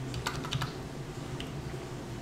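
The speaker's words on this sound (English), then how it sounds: "I just hit the up arrow on my keyboard" Computer keyboard typing while entering Java commands, a short run of quick, fairly faint key clicks over low room hum.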